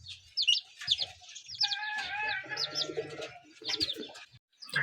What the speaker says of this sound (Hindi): ये माशाल्लाह देसी मुर्गी के बच्चे हैं जी।